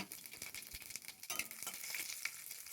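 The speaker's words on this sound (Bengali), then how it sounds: "এবার কড়াই গরম করে পরিমাণ মতো তেল দিয়ে দিলাম। অল্প 5 ফোড়ন, কয়েকটি শুকনো লঙ্কা আর তেজপাতা দিয়ে দিলাম।" Whole five-spice seeds, dried red chillies and bay leaves crackle and sizzle in hot oil in a wok, a steady bright hiss with scattered pops and a few light scrapes, close and fairly quiet.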